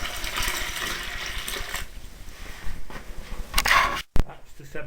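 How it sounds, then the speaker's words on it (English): Water pours steadily over mashed blackberries in a vessel for making a light-bodied sweet wine, a continuous splashing rush that thins out and ends with a brief clunk near the close. "I've got to put some water over that, I think. 7 pints of water."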